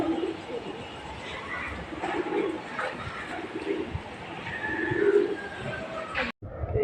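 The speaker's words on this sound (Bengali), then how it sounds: "এই 5টা পায়রা উঠছে।" Low, soft cooing from several domestic pigeons at a rooftop loft as a small group of five takes off, repeated throaty coos under outdoor background noise with little talk.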